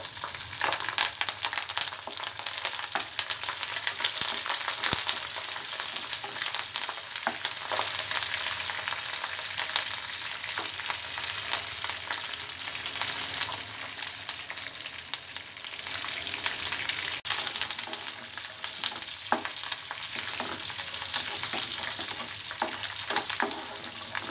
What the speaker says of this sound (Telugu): జీలకర్ర, శనగపప్పు, ఎండుమిర్చి, కరివేపాకు వేసుకోవాలి.